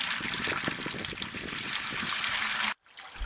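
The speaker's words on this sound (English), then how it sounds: "What little coolant was left over inside the heater core drains into the bucket." Leftover coolant drains from a Saturn's heater core into a bucket as a steady, close trickle and splash of liquid that cuts off abruptly near the end, leaving a faint quieter flow.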